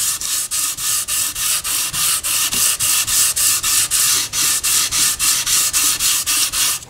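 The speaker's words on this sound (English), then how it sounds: "And I do a little sanding." Sandpaper rubs over the finish of a Fender maple guitar neck in steady, even back-and-forth strokes, loud and close, with a brief break between each pass and no talk.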